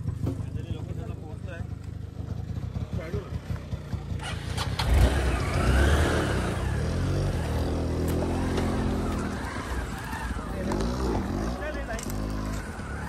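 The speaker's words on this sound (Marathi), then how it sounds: "येईल रिक्षा येईल" An auto rickshaw engine chugs with a low, rattling rumble during Dhulivandan festivities, revving up partway through while several people talk and shout over it.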